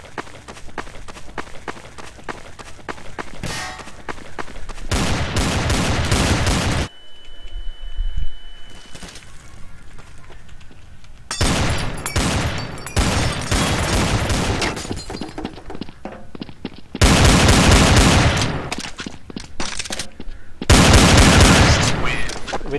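Pistol gunfire in the video game Counter-Strike: Source, with loud rapid bursts of shots coming in separate clusters broken by quieter gaps, all under a dense, noisy game mix.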